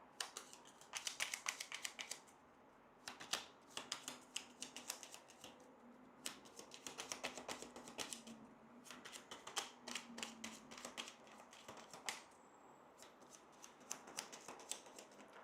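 Cards shuffled for the Legacy of Yu board game, a long run of dense, crisp riffling bursts with short pauses between, close and fairly quiet with no talking.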